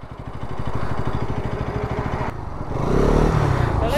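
A KTM Duke 250 motorcycle engine pulses close by in a fast, throbbing idle, then swells into a louder, rougher roar near the end as it accelerates off the line in a drag race against a Bajaj Pulsar NS 200.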